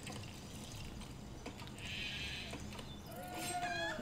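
Sheep in the Craft the World video game giving a faint bleat midway through, among soft game effects and a rising chime near the end.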